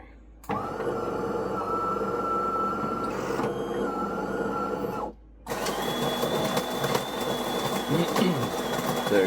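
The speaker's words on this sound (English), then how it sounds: "it's grinding up a second pack right now" A De'Longhi Magnifica Plus coffee machine grinds beans with a steady mechanical whirr close by. The whirr breaks off briefly, then resumes with a slightly different pitch, and no one talks.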